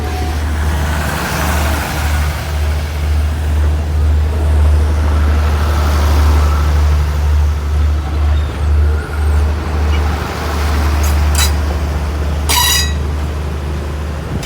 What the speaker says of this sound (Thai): รถเร็ว 172หลีกเข้าทาง 2 ครับ